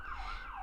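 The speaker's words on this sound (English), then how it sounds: "there's a siren." An emergency siren outside wails in a brief rising and falling sweep, moderately loud over a low background rumble.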